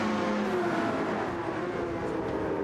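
Race car engines roar steadily from cars in an Alsace village circuit in a racing video game, a dense, continuous drone of revving motors from several cars at once, loud and unbroken throughout.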